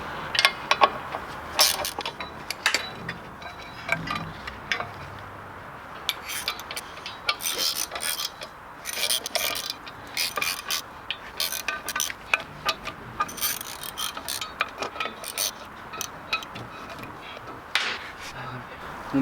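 Clutch bolts on a Ford Fiesta Zetec engine are tightened by hand, with a long run of irregular small metallic clicks, taps and scraping rubs close by, coming in short bursts with brief pauses between them.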